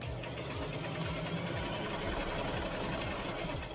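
A sewing machine stitches a tutu outfit in a steady, continuous mechanical whir with a fast rhythmic chatter, close and moderately loud, with no voices.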